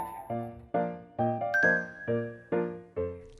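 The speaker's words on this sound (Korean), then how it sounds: "수업종이 울릴 때까지 자리를 지키는 학생들." A school class bell sounds as an electronic chime, playing a clear melody of about eight sustained, ringing tones in an even rhythm, moderately loud and alone.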